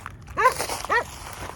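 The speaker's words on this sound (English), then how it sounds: "Okay, dogs." Dogs bark outdoors near a field, two short, close barks about half a second apart over faint background noise.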